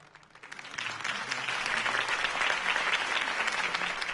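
A crowd applauds a campaign speech for Harvey Dent, clapping building quickly from a scattered start into a full, steady ovation that stays loud and close throughout.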